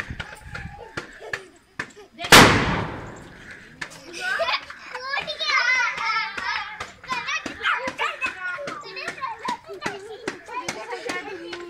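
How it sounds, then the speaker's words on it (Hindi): A rope bomb firecracker goes off with one sharp, loud bang during a Diwali celebration, followed by children chattering, shouting and clapping nearby. "दोस्तों हमारे रस्सी बम का साउंड कैसा लगा कमेंट में जरूर बताएं।"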